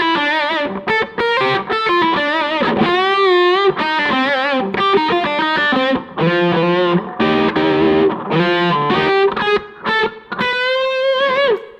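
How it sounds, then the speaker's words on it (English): Distorted electric guitar with humbucker pickups through a modeled amp preset plays a melodic lead line with bends and vibrato, loud and continuous, with short pauses between phrases. "I decided to make this preset for humbuckers"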